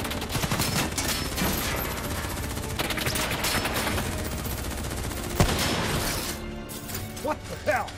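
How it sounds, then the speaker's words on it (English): Gunfire in the Call of Duty: Black Ops 3 mission 'In Darkness', a dense barrage of rapid shots and crashing impacts that thins out toward the end, with voices shouting over the fight. "What the hell? Who's shooting?"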